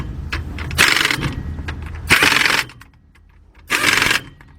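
Lug nuts on the wheel of a 2002 Workhorse Fastrack FT Chevy P30 are tightened with a 19mm 1/2 inch drive socket: three loud, close, harsh bursts of under a second each, separated by short pauses.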